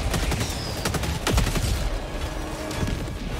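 Strafe run airstrike gunfire in Helldivers 2, a rapid string of heavy impacts and cracks rattling across the scene, moderately loud with a few sharper bursts standing out.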